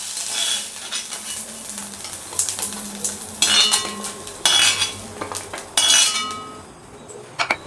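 Sautéed mint leaves are scraped out of a pan onto a plate for coconut mint chutney, in bursts of metal spoon scraping and clinking over a light sizzle, close and fairly loud.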